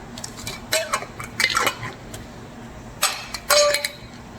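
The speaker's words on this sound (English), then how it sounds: "So now we'll take our little metal lid picker upper and we'll place them on our jars." Metal canning lids set onto glass jars with a magnetic lid lifter while pickling beets in a kitchen, heard as a few light close clinks and scrapes of metal on glass, spaced irregularly and without talk.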